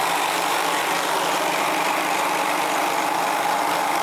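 A motor-driven Searl effect generator runs with its rollers spinning at about 214 RPM, producing a steady, loud, continuous whirring hum with no breaks and no voices.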